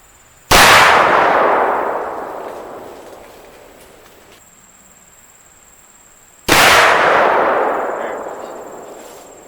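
A 30-06 rifle fired outdoors at a watermelon target: two loud, sharp gunshots several seconds apart, each followed by a long fading echo, with no talking.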